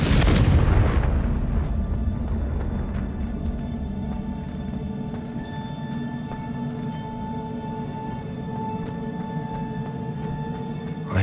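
A Confringo explosion spell goes off in Hogwarts Legacy on Nintendo Switch: a loud, close blast at the start that fades into a long low rumble with lingering magical shimmering tones.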